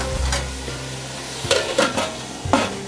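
Tomatoes cooking in a pan for a matumbo dish, a loud close sizzle with a few separate scraping stirs that come as short bursts, one early and a cluster later.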